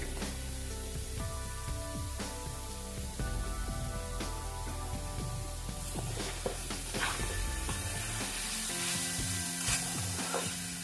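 Banana flower fries in oil over low heat, a quiet sizzle broken by stirring scrapes, with steady tonal sounds running underneath.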